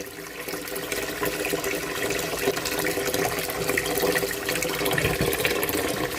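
Tap water pours steadily into a pot of rice, a continuous close rushing and splashing that holds at an even level for several seconds with no talking.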